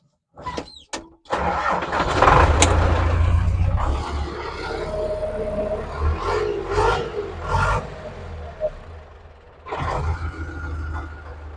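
A farm vehicle carrying a sprayer loaded with about 450 litres heads out to an oat and wheat field: a few clunks, then the engine catches and runs with a steady rumble, revving now and then, close by.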